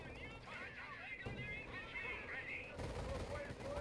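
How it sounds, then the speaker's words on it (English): Machine gun fire in Company of Heroes rattles faintly in the background as distant bursts, mixed with game battle noise, while a voice talks over it throughout. "my machine guns are doing plenty good job over here"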